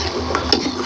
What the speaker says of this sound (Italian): li giro lentamente in modo che non si rompano